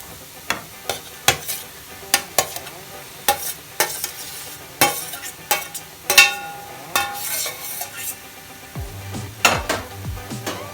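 Tomatoes stirred into onions in a pan for tomato thokku, with repeated scrapes and clinks of a spoon against metal over a low sizzle, close and steady, no voices.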